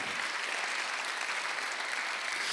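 A congregation claps in a church during a Sunday worship service, a dense, even wash of applause filling the whole stretch without pause.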